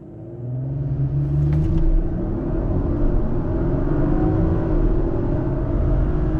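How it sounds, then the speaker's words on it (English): A 2023 Audi RS5 Competition V6 coupé launches hard under launch control, a deep steady engine rumble swelling and holding loud from inside the car, without talk. "let's try launch control here"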